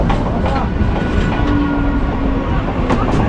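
A local train between Kolkata and Krishnanagar running at speed, heard from inside the vendor coach near Ranaghat: a loud, continuous rumble with faint clattering wheels throughout.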